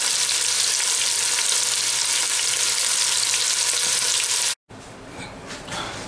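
Goat meat browning in a frying pan, a loud steady hiss and crackle of sizzling fat that cuts off abruptly, followed by a quieter stretch of faint kitchen clatter.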